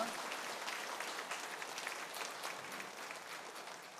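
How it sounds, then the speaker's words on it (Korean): Congregation applauding in a church right after an infant baptism during a Sunday service, a steady wash of clapping held at even strength for the whole stretch, moderately distant with no talk over it. "크게 축복하면서 박수해 주시기 바랍니다"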